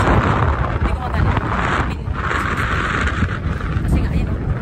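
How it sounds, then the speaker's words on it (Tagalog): Strong wind gusting during heavy snowfall on an Armenian mountainside, a loud roaring rumble buffeting the microphone continuously, with a voice faintly under it. "masyado malakas yung hangin"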